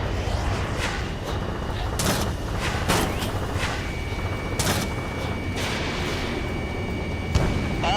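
Missile launches from a combat jet in Ace Combat 7 come as several sharp bursts spread across a steady engine roar, each a brief loud whoosh over the constant background.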